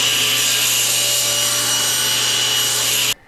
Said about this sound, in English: make the opposite face parallel to the first by running it through the planer